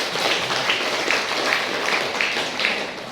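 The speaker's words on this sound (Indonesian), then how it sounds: "tepuk tangan lagi untuk." Classroom applause after a student presentation in a vocational class discussion, a steady wash of clapping hands filling the room at moderate loudness for a few seconds, with no one speaking over it.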